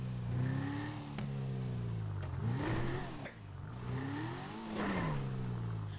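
Coquette sports car from GTA 5 pulling in, its engine droning steadily with several rising and falling revs, moderately loud and close, with no talk over it.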